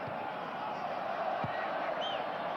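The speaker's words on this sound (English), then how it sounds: "Cheering every touch, even at 3-0 down." Home fans at a Bolivia vs Brazil football match keep up a steady, distant crowd roar of cheering and encouragement, with a commentator's voice faintly under it.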